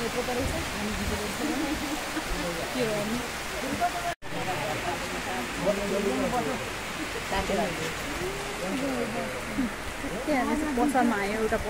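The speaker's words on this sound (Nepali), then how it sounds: "कतिखेर यो रोकिने हो थाहा छैन एकदम ठुलो परिरहेको पानी" Heavy rain pouring down steadily, a dense constant hiss under voices talking through most of it, with one brief drop in the sound near the middle.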